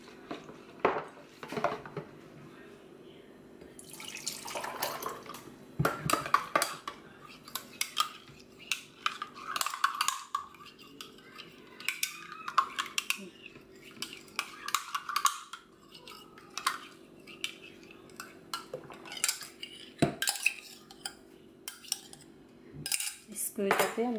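Spoon clinking and scraping in a bowl while mixing ingredients for homemade sweet Asian yogurt, a steady series of light metallic taps and stirs at close range, irregular in rhythm, with no one talking.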